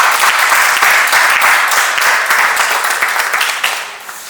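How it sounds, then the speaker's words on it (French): Sustained, loud applause from an audience at a general assembly of judges, dense and even throughout before easing off slightly at the end. "Merci, merci. On applaudit."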